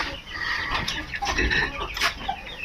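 About twenty chickens on a small backyard farm cluck and murmur steadily nearby, a continuous busy flock chatter.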